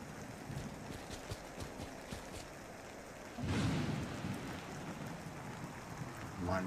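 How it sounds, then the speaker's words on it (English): Steady rain falls on a night in the survival game Misery, a soft continuous hiss that thickens partway through, with faint ticks of drops. "Rainy, rainy night."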